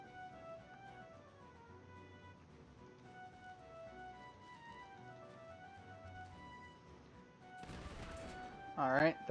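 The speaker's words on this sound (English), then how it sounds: "there are some shots taken at us." Gunshots are fired at a ship in Sid Meier's Pirates: a short, noisy burst of gunfire breaks in near the end over quiet background music, followed by a voice talking.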